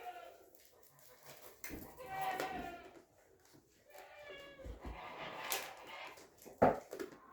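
A young goat kid bleats in loud, wavering cries, several calls spaced apart, with a voice talking softly nearby.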